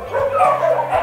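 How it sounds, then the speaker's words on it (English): Dogs at an animal shelter bark and yip in quick, close succession, a short burst of loud, whiny barking echoing in the kennel space. "This is all the dogs for adoption."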